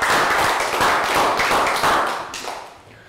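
A class of Year 3 children claps as a group after a classroom popcorn-making lesson, a dense, close patter of many small hands at steady volume that fades out near the end.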